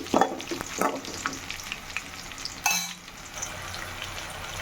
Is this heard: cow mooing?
no